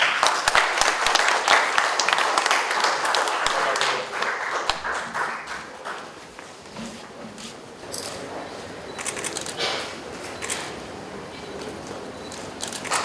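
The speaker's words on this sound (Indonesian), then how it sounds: "mari kita berikan tepuk tangan yang meriah untuk pembacaan deklarasi" Audience applause fills a hall in Bandung after a human rights city declaration is read, dense clapping for about four seconds that thins into scattered claps and room murmur, with faint voices underneath.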